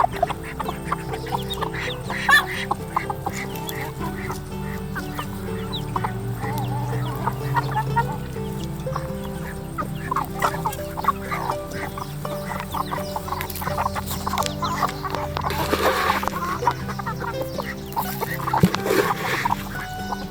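Adult Betong breeder chickens on a farm cluck and chatter steadily throughout, several birds close by making overlapping calls against a busy background with no talking.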